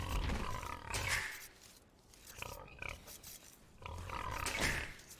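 Grunting, roar-like pig or boar calls in the video game Age of Empires 2, three loud bursts separated by quieter gaps.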